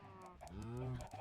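Minecraft chickens cluck in a few short, close calls over game background noise. Eggs are being thrown at them.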